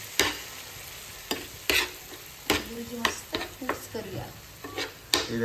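Bombil (Bombay duck) burji cooks in a pan, with a low sizzle under repeated sharp scrapes and clacks of a spatula stirring at an uneven rhythm, close and fairly loud.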